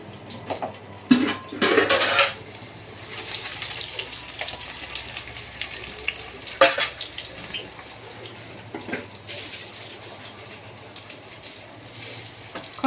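Raw green banana curry stir-fried in a pan with beans and cumin, a continuous low frying hiss broken by bursts of stirring and scraping, loudest early on.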